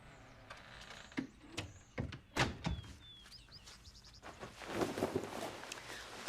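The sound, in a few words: door being closed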